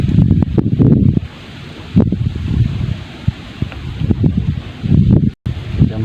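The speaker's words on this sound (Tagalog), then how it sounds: "Sobrang hangin. Mahangin na." Strong wind blows outdoors during traditional fishing under an overcast sky, a steady rushing roar with gusts that buffet the microphone and a brief dropout.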